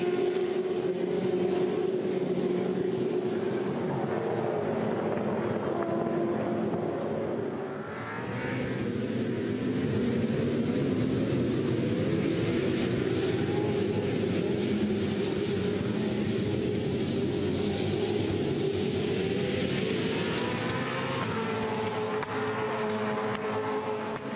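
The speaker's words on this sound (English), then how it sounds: "Just listen to the roar of these cars through the middle here." Supercars V8 race cars roaring past through the middle section of Winton circuit, a sustained loud engine drone that dips briefly then swells again as more cars pass, with no commentary over it.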